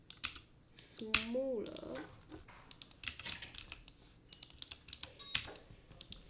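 Quick keyboard shortcut presses during 3D modelling of a Toyota Auris come through as sharp, scattered clicks and taps. They are close and fairly quiet, with a few clustered keystrokes, and a voice talks intermittently.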